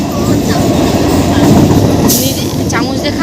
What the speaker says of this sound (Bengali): ট্রেনে উঠে পড়েছি সব